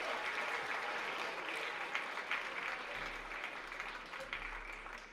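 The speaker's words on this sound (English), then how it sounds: "Big round of applause for all 7 of them" Sustained clapping from a crowd, a dense steady patter of many hands that tapers slightly toward the end.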